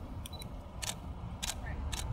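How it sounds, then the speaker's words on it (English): Camera shutter clicks, a few short crisp bursts spaced unevenly over a steady low background hum, fairly close with no talk. "Sounds like a quieter shutter than the old one too"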